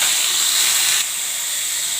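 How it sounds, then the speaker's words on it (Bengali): Fenugreek (methi) greens frying in a pan with eggplant, giving a steady, close hiss of sizzling oil that drops slightly in loudness partway through. "আমি এখন বেগুন ভাজছি, বেতে শাক ভাজা করব।"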